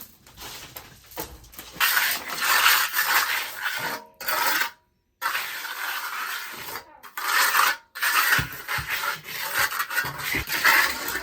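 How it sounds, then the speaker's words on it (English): Stainless steel finishing trowel rasping and scraping over fresh, still-soft concrete on a countertop with glass beads, in repeated steady strokes broken by a few brief pauses, close and fairly loud with no talking. "I'm gonna work it in with the stainless steel finishing trowel"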